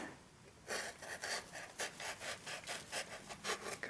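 A sharp X-Acto blade cuts a tapered circle for a VW alloy wheel center cap, giving close, repeated scraping strokes in a steady rhythm.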